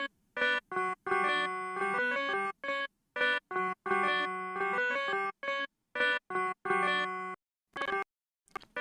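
A cute synthesizer sequence in Bitwig with effects engaged, short bright pitched notes in a bouncy stop-start rhythm, clear and alone with brief gaps between phrases.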